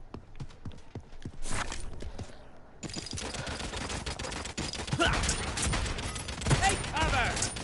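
A light machine gun in the video game Realm Royale fires in sustained rapid bursts, loud and close, with game effects and a voice mixed in.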